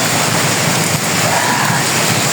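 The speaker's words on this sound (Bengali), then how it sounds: "বৃষ্টি এসে পড়েছে।" Monsoon rain pours down in a loud, continuous hiss of drops with no voices, then ends abruptly.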